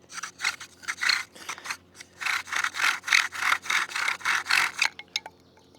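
Rhythmic back-and-forth rubbing of a bow drill spindle on wood, about a dozen rasping strokes speeding up steadily before stopping, close and clear with no voices.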